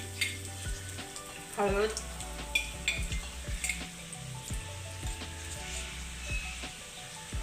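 Mustard seeds and spices sizzle and crackle in hot oil for a Maharashtrian modak amti, with steady frying hiss, scattered pops and some stirring clatter, while a voice speaks briefly.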